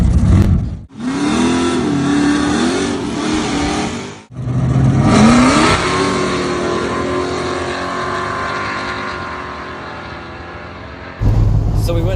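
A drag racing car makes a test pass at a drag strip, launching in high gear and running without shifting: a loud, sustained engine roar that climbs in pitch, broken by two brief dips, then settles into a steady drone.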